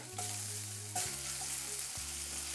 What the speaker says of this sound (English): now I'm going to cut it directly into the butter